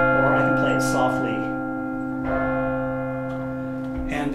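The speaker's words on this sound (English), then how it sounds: "Carillon has to have two full octaves, 23 bells, and has to be able to be played manually from the keyboard." Carillon bells in a tower struck by hand from a keyboard, with sustained ringing tones and overlapping resonance, loud and close, with a few fresh strikes while earlier notes decay.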